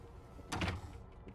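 A door opens in the We Happy Few video game, a single short scraping creak lasting about a quarter second, faint against quiet room ambience.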